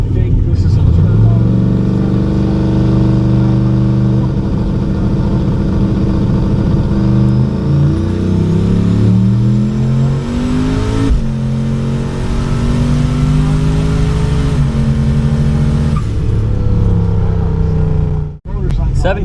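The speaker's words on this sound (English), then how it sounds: "Turbo Mustang out of Yelm, left lane." A turbocharged Ford Mustang accelerating hard at a streetcar shootout race, engine note climbing through several rising gear pulls, loud and close, followed by a brief sharp drop at the end.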